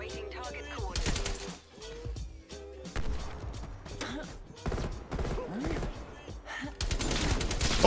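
Repeated heavy artillery-strike explosions in Call of Duty Cold War crash in loud broadband bursts every couple of seconds, layered over rapid gunfire and general battle din, with the final blasts the loudest.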